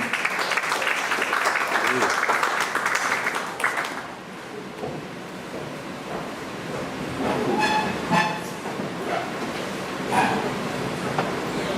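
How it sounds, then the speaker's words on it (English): An audience at an African History Month celebration in San Fernando claps warmly for about four seconds. The applause then fades, and a voice speaks over the quieter room. "Could we give God a round of applause this evening?"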